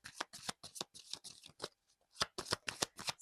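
Tarot cards shuffled by hand in a quick run of crisp riffling bursts, a brief pause, then more rapid shuffles, close and clear.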